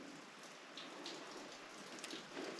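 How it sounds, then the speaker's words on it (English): Steady rain falls outside a cave, a soft even hiss of drops with occasional brighter patters, heard from a dry spot inside, no voices. "it's raining out there, but I'm dry"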